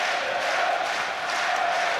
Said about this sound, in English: The crowd get behind the underdog, and you can really feel it here